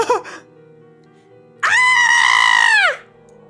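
A girl from the visual novel Chaos;Head Noah lets out a single long, loud, shrill scream lasting over a second, sustained and then trailing off, after a short earlier cry over a low background hum.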